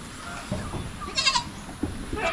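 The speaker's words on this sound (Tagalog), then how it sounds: "Yan po ang update sa ating mga alagang kambing dito." Farm goats, some pregnant, bleat in a pen, several nasal calls at close range rising over quiet background rustling, with short gaps between bleats.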